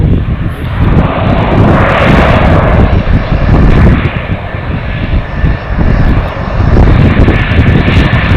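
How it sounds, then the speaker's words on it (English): Twin Otter aircraft on approach to land on the beach at the Isle of Barra: loud, continuous propeller engine drone with wind noise buffeting the microphone, holding steady throughout. "And the Twin Otter is just making its approach."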